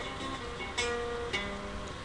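Acoustic guitar playing a riff at speed: a few quick plucked notes with ringing tones, fairly quiet and close, with no voices.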